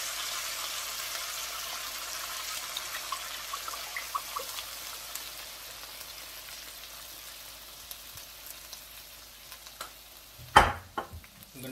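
Gobi Manchurian sizzles steadily in a hot pan as vinegar and soy sauce go in, a soft continuous frying hiss with faint crackles, then a sharp louder clatter and splash of stirring near the end.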